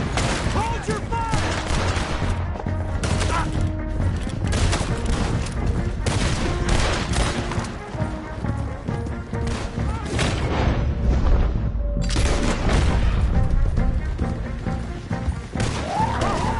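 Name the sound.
gunfire in Red Dead Redemption 2 video game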